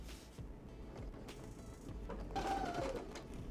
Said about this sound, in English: I'm stitching right on the fold.